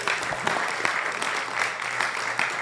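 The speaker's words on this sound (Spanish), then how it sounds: "a quien pido que recibamos con un fuerte aplauso" Audience applause welcoming a geologist and researcher, Dr. Fernando Rosero, at a lecture. The clapping is steady and dense throughout, with a few sharper claps standing out near the front.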